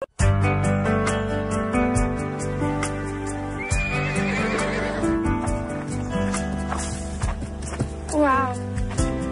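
A horse whinnies twice, loud and close, over background music, with hooves clip-clopping at intervals. Voices speak over it.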